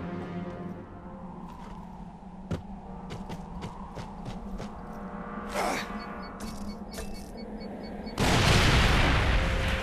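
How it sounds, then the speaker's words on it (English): A grenade explodes in the shooter Fracture: scattered sharp gunshots first, then a loud, broad, sustained blast near the end, close and dominant, with no talk. "Use a grenade to break into the window I've marked."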